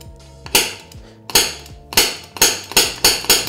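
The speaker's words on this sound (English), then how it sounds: "So I need my center punch. And now I can put it in the center." A steel center punch is struck by a hammer to mark the center of a workpiece, giving about seven sharp, ringing metallic strikes at uneven intervals, loud and close with short decaying rings.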